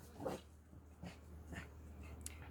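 Two pet dogs, Lilou and Cooper, give faint distant whimpers and soft yips outdoors as cyclists pass, in a few scattered brief bursts over a quiet background.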